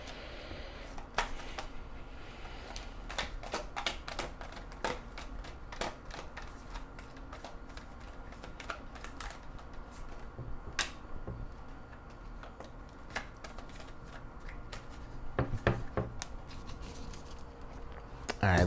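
Tarot cards are shuffled by hand in a steady stream of soft, close riffling clicks and taps that go on throughout at a moderate level.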